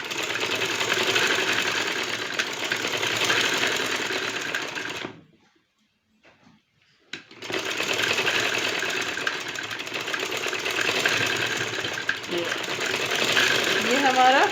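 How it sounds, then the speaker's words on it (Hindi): Sewing machine stitching elastic onto trousers, its motor and needle running in a steady fast whir that stops for about two seconds in the middle and then resumes at the same pace. "आपकी जो इलास्टिक का स्टिचिंग है वो कंप्लीट हो जाएगी"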